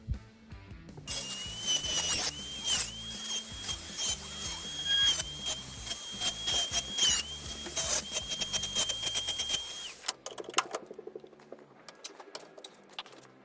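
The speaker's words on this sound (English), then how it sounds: "Just grinding down the corners." A tool grinds down the corners of a pool ball shift knob, a harsh high whine with rapid rasping bursts throughout, close and fairly loud, ending abruptly with a few scattered knocks.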